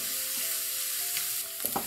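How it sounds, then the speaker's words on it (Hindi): Onions sautéing over a medium flame for bread chicken patties, a soft even sizzle with light stirring scrapes toward the end, no voices. "सोते करेंगे प्याजों को, फ्लेम मीडियम रखें।"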